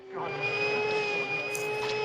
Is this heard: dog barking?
no